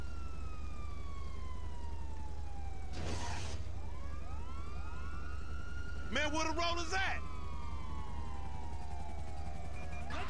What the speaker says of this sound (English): He doesn't know how to turn the sirens off.